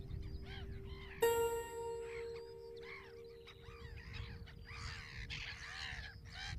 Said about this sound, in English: All around me, the landscape is teeming with birds